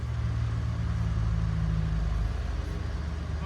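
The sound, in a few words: 1988 Toyota 4Runner driving on a test drive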